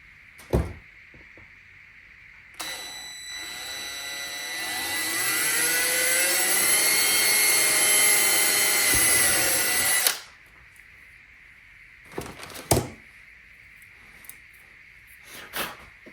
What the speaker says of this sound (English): Here's our drill.